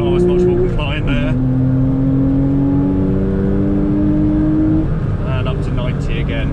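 A Porsche Boxster S accelerating on a small sprint race circuit during a track day, engine note rising steadily through the gears from inside the car, close and loud, with a person talking over it.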